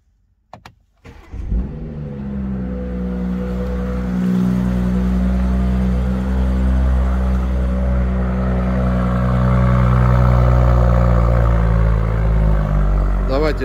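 A BMW car engine cold-starts with a brief cranking burst, then settles into a steady, loud, close idle drone that holds for the rest of the clip.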